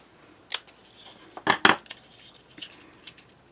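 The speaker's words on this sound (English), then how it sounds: "I'm gonna go ahead and trim that off with my scissors." Scissors trimming excess paper from a handmade medallion card: a few crisp snips, one isolated cut followed a second later by two quick cuts close together, then a few faint rustles, near and alone.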